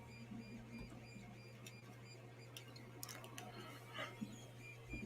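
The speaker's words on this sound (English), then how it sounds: "Got this 3D printer going. You might hear it in the background." A 3D printer printing a predator figure runs steadily in a room, its stepper motors whirring and ticking in a constant low drone throughout.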